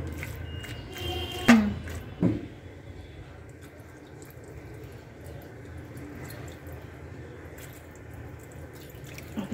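A small splash of water pours into a pan of taro stolon curry, a brief trickle and plop near the start, followed by a quiet kitchen background with faint shuffling.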